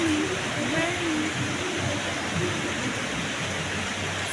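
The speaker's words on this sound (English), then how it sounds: "Wow, guys, it's raining." Steady, dense hiss of heavy rain falling outdoors, a continuous broadband wash that stays even throughout, with a faint voice murmuring underneath.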